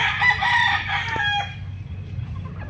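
A sweater gamefowl rooster crows once, loud and close, its call drawn out and falling away over a faint farmyard background.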